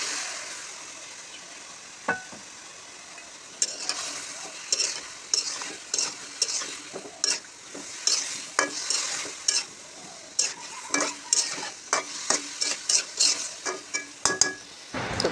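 Ginger, garlic and radish fry in a pan under a long run of brisk, rhythmic stirring, with repeated spatula scrapes and clinks over a constant sizzle, heard close and with no one talking.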